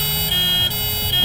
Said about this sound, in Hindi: एम्बुलेंस को जाने दो।